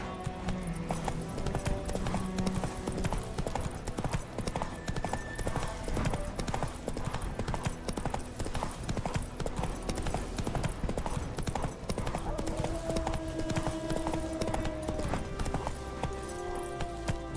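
Roach, the horse in The Witcher 3: Wild Hunt, gallops in a steady, unbroken drum of hoofbeats lasting throughout, layered with game music and ambience; no talking is evident.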